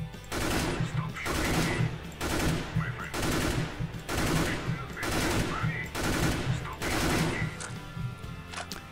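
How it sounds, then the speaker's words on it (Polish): Repeated bursts of M4A4 rifle fire in the video game CS:GO, about eight short, evenly spaced volleys of a few rounds each, loud and close, with brief pauses between them. "Możecie też strzelać burstami po trzy kule i wtedy celować nieco niżej na pewniaka"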